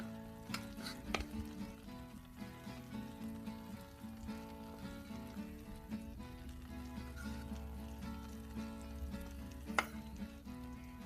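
Pancake batter sizzles quietly on a griddle, a faint, even frying hiss with a few soft clinks.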